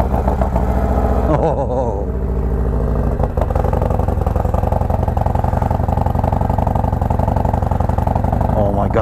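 Harley-Davidson motorcycle exhaust, from a Road Glide or Low Rider ST, rumbles loud and steady close by through the whole stretch, with a brief rise in revs near the start and a man's short exclamation over it.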